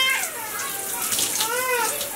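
Running water pours steadily from a cooled shower or tap to rinse conditioner out of natural hair during a wash, a continuous close splashing flow with no talk.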